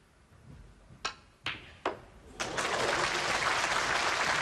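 Snooker crowd at a Shanghai Masters match breaks into applause after a few sharp knocks, the clapping swelling into a steady, broad roar that fills the hall.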